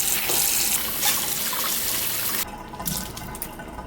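Water splashes and pours as adai is rinsed in plain water and the water is tipped out, a running, sloshing wash followed by a shorter, clearer pour at close range.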